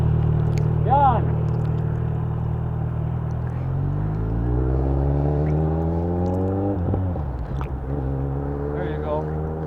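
A 2010 Kawasaki Z1000 motorcycle engine revs steadily, then climbs in pitch as the learner rider pulls away in first gear, dips briefly at the shift into second, and rises again, close and continuous, with voices talking over it.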